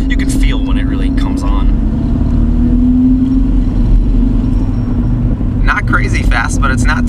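A Volkswagen MK4 TDI diesel wagon's engine drones and rises steadily while accelerating under the cabin's road rumble, with people talking over it at the start and end.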